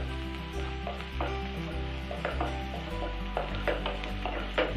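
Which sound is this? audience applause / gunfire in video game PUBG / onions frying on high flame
onions frying on high flame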